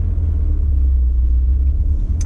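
Honda Accord diesel car accelerating hard toward top speed, a deep steady rumble of engine and road noise heard from inside the cabin, loud and continuous.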